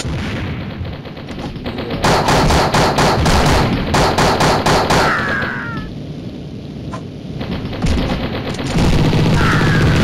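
Loud, sustained automatic gunfire in the mobile shooter Mini Militia, rattling in fast repeated bursts with short pauses between volleys, alongside game sound effects.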